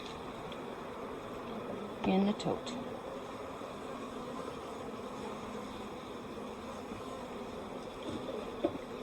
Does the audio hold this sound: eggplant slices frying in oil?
no